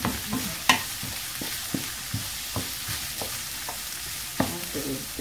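Onions browning in a pot over high heat, with a steady low sizzle under a series of sharp stirring scrapes and knocks from a utensil against the pot, close and unaccompanied by speech.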